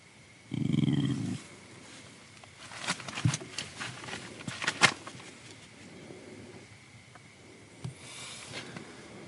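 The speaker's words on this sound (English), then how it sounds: "he just growled." A nine-year-old dog growls once, a short low rumble near the start, then a quiet stretch of light pattering and faint rustling in a camping setting.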